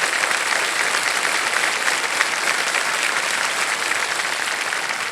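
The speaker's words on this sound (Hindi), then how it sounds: "तालियां बज जाएं इनके लिए।" A studio audience on the game show Kaun Banega Crorepati (KBC Season 17) claps steadily and loudly for a contestant, a dense, even wash of applause with no pauses and no talk over it.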